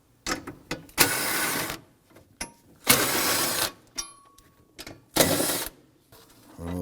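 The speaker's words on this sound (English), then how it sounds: "Using a 13mm socket, we're going to loosen and remove these two bolts and this one nut." Ratchet with a 13mm socket loosening bolts and a nut on a 2003-2014 Volvo XC90 battery cover plate, making several short bursts of fast, dense clicking separated by pauses, close and clear.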